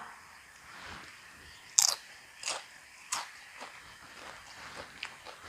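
Crisp bites into deep-fried pork wontons: three sharp, loud crunches followed by softer crackling chews, close up and with no speech.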